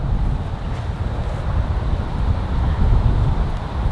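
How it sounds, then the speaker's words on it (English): Strong wind blows across a golf practice tee at about 30 miles an hour, a continuous loud rumbling buffet against the microphone with no talk. "the wind is 30 mile an hour left to right"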